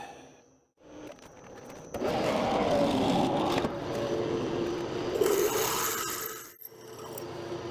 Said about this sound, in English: I think that's about the last hole that drill's going to do without a regrind